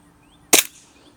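A budget airsoft plinker fires a single sharp, snappy shot close by, a brief crack that decays quickly into quiet outdoor background.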